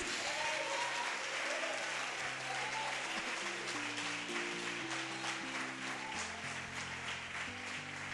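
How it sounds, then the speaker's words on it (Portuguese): Church congregation applauding during a Portuguese-language service, a continuous crowd of hands clapping at a steady level, with low sustained musical tones from an instrument running underneath. "Você pode aplaudir ao Senhor Jesus?"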